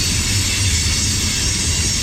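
A coal train rolls past close by, a loud continuous rumble and roar of wagons with a steady low drone that holds throughout without a break.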